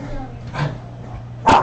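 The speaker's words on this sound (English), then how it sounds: "Oh, sorry about the dogs, guys. They're playing." Dogs playing indoors during a home cooking session, two short yips or barks, one faint and one louder near the end, over a quiet room hum.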